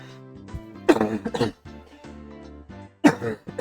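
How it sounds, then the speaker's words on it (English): Two sharp, close coughs about two seconds apart, each a harsh burst followed by short rasping, with quiet low humming between them. "I have to cough."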